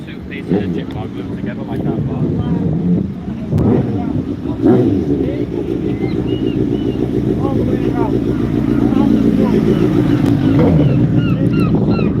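Motorcycles rumble and rev as they pass by outdoors at a seaside bike night in Withernsea, engines rising and fading over steady wind noise, with people talking in the background.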